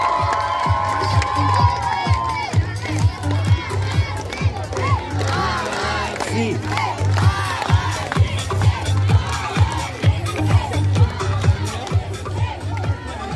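Children at a summer camp dance and cheerleading event cheer and shout as a crowd, with rhythmic claps or stomps pulsing steadily under the noise, and voices calling out throughout.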